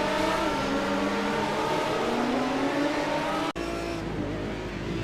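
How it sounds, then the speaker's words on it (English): An Aston Martin GT1 race car spinning off track at Donington Park in iRacing, engine note rising under sustained tire squeal, then a sudden cut to a lower, steadier drone. "Simon again putting the power down too early and spitting the car off track."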